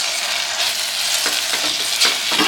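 Fresh mint and coriander leaves sautéing in a fish biryani pot, with a steady close sizzle and scraping stirring strokes that grow more frequent toward the end.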